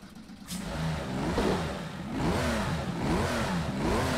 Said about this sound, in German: Ich mach mal den Motor an, würde ich sagen.